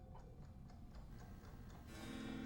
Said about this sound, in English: Something's ticking.